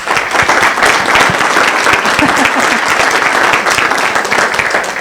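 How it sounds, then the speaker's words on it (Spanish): Loud, steady applause from a conference audience at a climate finance session, a dense unbroken wash of clapping that holds for the full five seconds with no voice over it. "un aplauso para todos"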